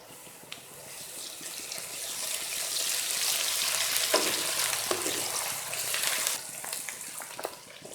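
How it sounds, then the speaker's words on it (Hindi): A loud, steady sizzle of ginger garlic paste frying in a hot pan, with occasional scraping and stirring clicks, close up and without talk. "अदरक लहसुन का पेस्ट डाल रही हूँ।"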